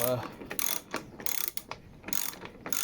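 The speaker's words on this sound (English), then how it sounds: "Get your 19mm bolt or nut, and get your socket." A socket wrench working a 19mm nut on a mower cylinder roller gives quick bursts of ratcheting clicks in several short runs, close and fairly loud, with no voices.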